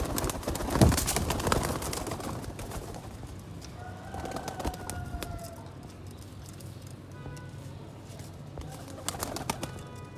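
Sialkoti pigeons coo nearby, with soft repeated calls over a noisy outdoor background and a few scattered knocks.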